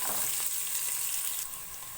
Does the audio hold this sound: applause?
no